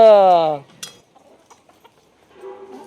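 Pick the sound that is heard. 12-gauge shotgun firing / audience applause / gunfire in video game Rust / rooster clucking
rooster clucking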